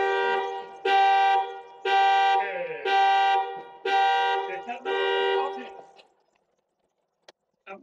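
A car alarm blares nearby: about five loud, sustained horn-like tones in a steady on-off rhythm, then it cuts out, leaving near silence with a couple of faint ticks.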